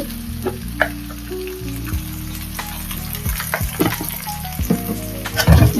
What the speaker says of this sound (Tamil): இது பண்ணி ஒரு நிமிஷம் வதக்கணும்